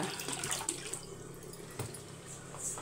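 Water being poured while making a drink in a home kitchen: a faint, continuous trickling splash with a few small clinks, quiet and close, with no talk.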